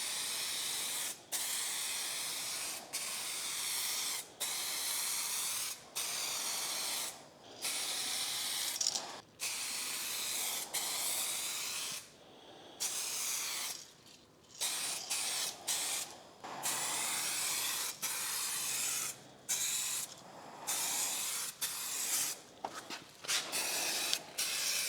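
Spray can paint hissing over a rust repair: long steady close bursts of spray broken by short pauses, continuing alone throughout.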